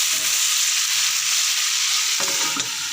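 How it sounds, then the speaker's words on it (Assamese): Pumpkin sabji frying steadily in a pan over a low gas flame, a continuous soft sizzle with a brief clatter of stirring near the end, no talk. "এতিয়া মই অলপ চিমত সিজিবলৈ দিম, গেছটো কমাই দিছোঁ"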